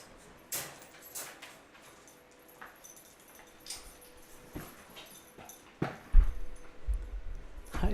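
Puppies shuffle about and whimper indoors: soft scratches and paw clicks, with high thin whines and yips scattered through. The sounds grow busier and louder near the end, close by.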